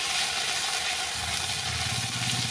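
Ginger garlic paste hitting hot oil in a pan with cumin and bay leaf, a dense continuous hissing sizzle that stays loud and even throughout, close and alone.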